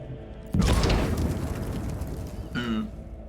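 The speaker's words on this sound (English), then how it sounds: "Frag grenade explosion cuts off the rest of the surgeon's words." A frag grenade blast in the Warhammer 40K Rogue Trader video game bursts out suddenly and loudly, then its rumble trails off into a long, noisy tail with a brief tonal sound near the end.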